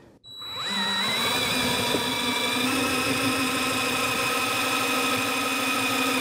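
An engine driving an alternator on a test rig starts up and settles into a steady, loud, continuous whine-like drone at low RPM, close by with a constant level and no talking.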